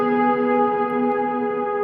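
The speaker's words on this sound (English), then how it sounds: "there's a moment when there's no reverb, and then all of a sudden the reverb kicks in" An electric guitar sustains a steady chord during a worship guitar lesson, its tone washed in reverb that swells in after a delay, forming a smooth, continuous, fairly loud wall of sound with no talking.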